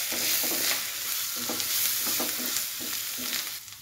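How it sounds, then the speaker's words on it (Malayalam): Garam masala, coriander and black pepper sauté in a hot pan with a steady, bright sizzle, broken by soft stirring scrapes at a loose rhythm, close up and with no talk. "1 ടീസ്പൂൺ ഗരം മസാല, 1/2 ടീസ്പൂൺ മല്ലിപ്പൊടി, 1 ടീസ്പൂൺ കുരുമുളക് പൊടിയും കൂടെ ഇട്ട് വഴറ്റാം."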